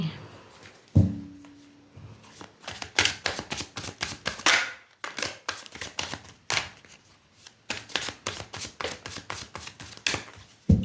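Tarot card deck being shuffled and handled, a run of crisp rapid riffles and taps, close and fairly loud, with brief pauses between bursts.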